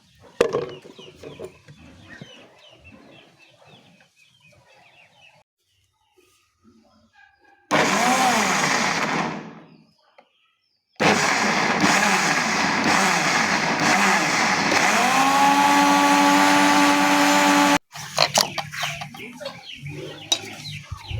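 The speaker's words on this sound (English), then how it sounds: "So let me go and blend this." A blender runs on ingredients for an organic chicken immunity remedy, loud and continuous in two stretches with a brief pause between. Chickens cluck and a voice speaks in the quieter parts before and after.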